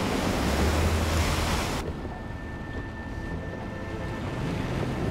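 Strong wind roars across an open ocean with heavy surf, a loud continuous broadband rush with wind buffeting the microphone throughout, and no voices.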